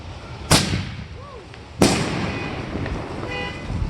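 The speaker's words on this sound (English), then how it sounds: "I like these canister shells." Canister shell fireworks exploding at a fireworks party: two sharp, loud booms about a second apart, each followed by crackling rumble, with faint whistles and distant horn-like tones in between.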